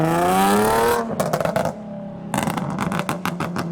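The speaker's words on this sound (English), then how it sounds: "We've got some GTRs leaving from what I can hear" Nissan GT-R cars pull away from a modified car meet, a loud engine roar giving way to popping, crackling exhaust bursts and revs, close by and without talking.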